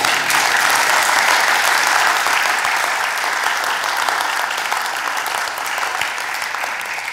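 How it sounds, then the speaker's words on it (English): A church congregation claps during a sermon, a dense, sustained round of applause from many hands, loud and even at first and easing slightly toward the end, with no talking over it. "Can we give my Jesus another clap"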